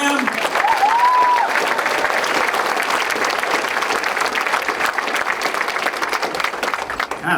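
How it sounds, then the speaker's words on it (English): Audience at a comedy show bursts into steady applause for the performers, dense and fairly loud throughout, with a brief whistle near the start. "Clap for them."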